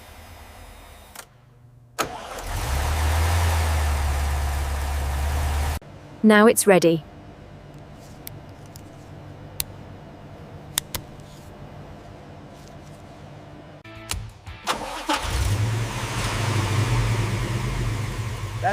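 A 1963 Chevrolet Corvette Sting Ray under overhaul cranks and catches, its engine running loudly for a few seconds, cutting off, then cranking and firing again near the end, with brief clatter and someone speaking between attempts.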